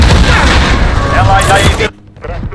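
A cruise missile strike lands in Call of Duty Modern Warfare Ground War, loud dense blasts and crackling gunfire-like booms that cut off abruptly, leaving faint background sound and a voice.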